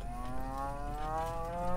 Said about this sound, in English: Now I've got to worry about hitting 14 cows.